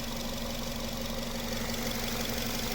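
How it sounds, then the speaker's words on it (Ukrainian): The 2.0-litre petrol engine of a 2008 Nissan Qashqai+2 Tekna idles steadily and close by, a constant hum with a faint ticking knock throughout, no voices. "Добре працює двигун."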